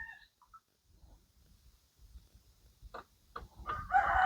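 A rooster crows and clucks nearby, with scattered low rustling and a louder burst of crowing toward the end.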